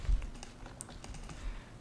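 Rapid, soft keystrokes tap on a computer keyboard at close range, a quick irregular patter of clicks with no talking.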